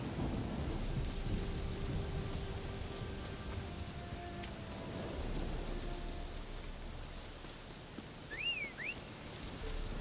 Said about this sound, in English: There's a damn storm.